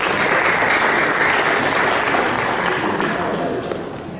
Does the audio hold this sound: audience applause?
yes